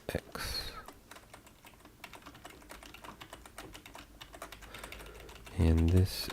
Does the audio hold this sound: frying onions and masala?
no